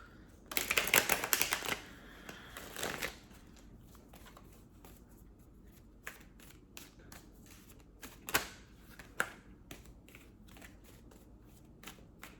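A deck of tarot cards riffle-shuffled up close, a loud burst of rapid flutters followed by a few sharp snaps and taps, then quiet.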